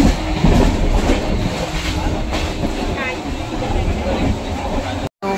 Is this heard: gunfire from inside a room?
no